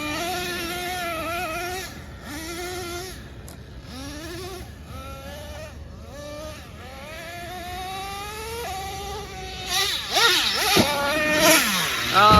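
Traxxas Nitro Revo 3.3 RC car nitro engine running loud and close, a buzzing drone whose pitch repeatedly rises and falls with throttle blips, revving harder toward the end.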